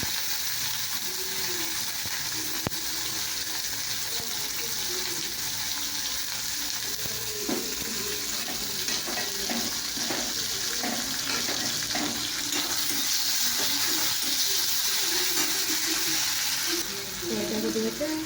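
Sliced onion frying in hot oil in a home kitchen pan, a steady close sizzle with scattered crackles and some stirring clatter, and a faint voice underneath.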